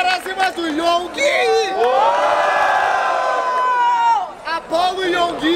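A crowd at an outdoor rap battle in Barueri, São Paulo roars and whoops loudly for a rapper, a sustained swell of cheering with shouted voices rising and falling over several seconds.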